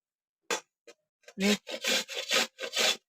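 Indian gooseberries (amla) being grated into long shreds by hand, a series of rough rasping strokes: a few short scrapes, then five steady, louder strokes in a regular rhythm, close up with no talking.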